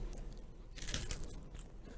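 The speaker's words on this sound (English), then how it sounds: "Let me show you how to do a mic crunch." Crunchy chewing of a cookie right up against the microphone, a burst of loud crisp crunches followed by softer munching.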